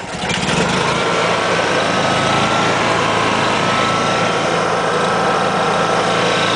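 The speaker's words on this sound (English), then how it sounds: "Go ahead and start the generator." Honda EU6500iS inverter generator starts and runs, its engine catching almost at once and then holding a loud, steady, close drone with no talk.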